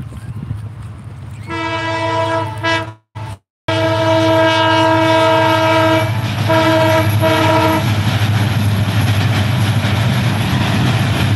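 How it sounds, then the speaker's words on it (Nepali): A train horn sounds loudly in a long sustained blast, then briefly again, over a steady rumble of rolling railcars as the train pulls in near a crowded dam on New Year's Eve, 31 December. "ट्रेन आयो ट्रेन आयो ट्रेन आयो"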